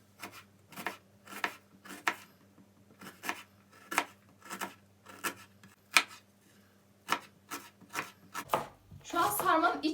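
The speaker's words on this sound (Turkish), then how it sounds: "şimdi ilk önce soğanlarımızı doğrayacağız" A knife chops two onions on a board in a fast, even run of sharp taps, close and distinct, and near the end a brief burst of rustling and scraping follows.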